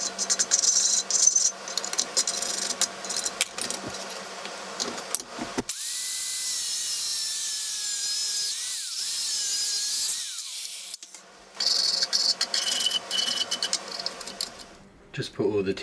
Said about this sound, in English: I'm just going to cut these down with the angle grinder